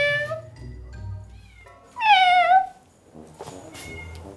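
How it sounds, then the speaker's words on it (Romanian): Cats at an animal shelter give several clear meows, one at a time, including one loud, drawn-out cry in the middle, close and with no talk over them. "ele fac miau, miau și fac și eu miau"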